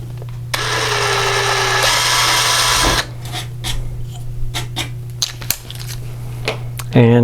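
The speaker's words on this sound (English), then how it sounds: "I'm going to drill for the switch." An electric drill boring a 5/32 inch hole for a switch during a GIME-Z FPGA installation, a steady loud whine for a few seconds that stops abruptly, followed by quieter handling clatter and a brief motor burst at the end.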